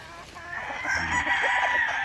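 A sweater gamefowl rooster from a Philippine gamefarm crows once, close and clear, with a rising then sustained call over quiet farmyard background.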